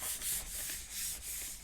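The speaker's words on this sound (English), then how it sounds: "I'm going to burnish it really well." An inkjet photo print being burnished by hand onto a gelli plate, giving soft rhythmic rubbing strokes, about four back-and-forth passes, close and fairly quiet with no voices.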